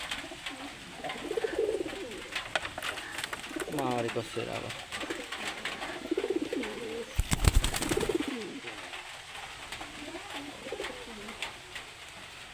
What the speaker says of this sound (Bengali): এই দেখেন কত কবুতর ঘরের মধ্যে সব ডাকছে।